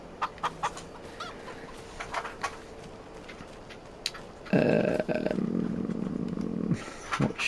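Chickens in the Farming Simulator 25 farming game cluck and cackle in a steady flock chorus over a low engine hum, with sharp clicks earlier and someone talking before the birds come in.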